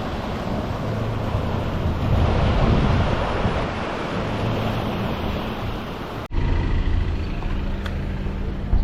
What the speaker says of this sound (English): You can see it in the surf there too, washing up.